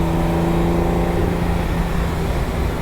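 Ferrari 365 GTB/4 Daytona Spider driven at speed on a British B road, a steady droning engine note with a continuous low hum and road rush, close and unbroken, with no talk.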